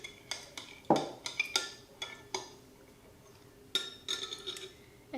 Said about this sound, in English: just going to stir that together.